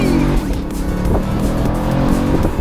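A V8 car with an 8-speed gearbox is driven briskly along twisty roads, its engine note rising and falling through gear changes while tires squeal, heard up close and loud without talk.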